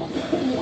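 A brief, soft coo from a high-flyer pigeon, low and throaty, heard close against faint background noise.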